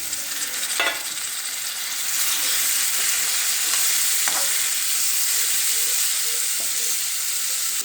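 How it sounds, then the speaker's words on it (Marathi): Finely chopped onion and bitter gourd sautéing in a pan, giving a loud, steady sizzle with a few sharp scrapes from stirring close by. "एक बारीक चिरलेला कांदा छान हलवून परतून घ्यायचे. नंतर कारली घालून परतून घ्यायचे."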